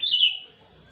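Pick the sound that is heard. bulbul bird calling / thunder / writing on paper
bulbul bird calling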